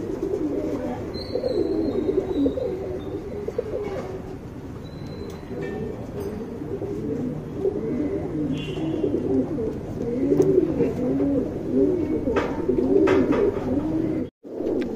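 Sabja breed pigeons coo repeatedly close by in a loft, soft rolling calls overlapping in steady cycles over a low background hum, with a brief sharp click near the end.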